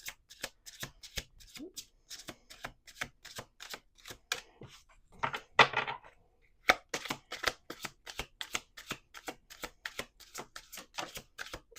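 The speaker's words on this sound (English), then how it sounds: "We're doing 2 more shuffles." A deck of cards being riffle-shuffled, with sharp, fast crackling bursts repeating one after another, close and crisp, and a brief pause in the middle.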